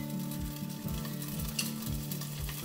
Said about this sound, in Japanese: ではしばらく焼きます。 弱火でじんわり火を入れていきたいと思います。